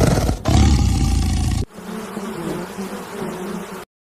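A lion's roar, loud and rough, fills the first second and a half, then gives way to a quieter, lower sustained rumble that runs to the end.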